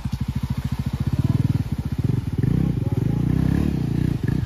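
A Yezdi Adventure motorcycle engine riding through water off-road, with a close, deep rhythmic thumping that quickens and thickens as the throttle rises, a constant low rumble throughout.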